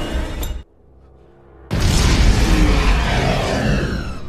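A grenade goes off in the film X-Men: First Class. A brief sound cuts to near silence, then a loud, sustained blast with a roaring rumble that carries on to the end.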